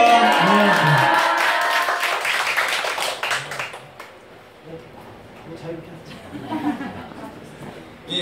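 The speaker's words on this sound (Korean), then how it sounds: "할렐루야로 박수를 한번 모시겠습니다" A church audience in a Korean gathering claps together in a burst of applause with some cheering, loud at first and then fading into murmured chatter and scattered claps.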